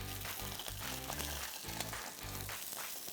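Salmon pan-frying in oil, a steady, soft sizzle and crackle running throughout with no voices over it.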